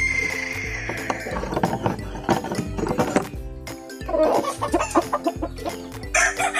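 Hens in a Filipino backyard poultry yard cluck repeatedly and close by in uneven bursts, with a few clopping knocks and other barnyard noises mixed in.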